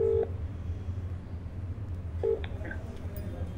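Phone keypad dialing tones heard during a call on speakerphone: two short clear beeps, one at the start and one a couple of seconds later, over a steady low background hum, with no talking.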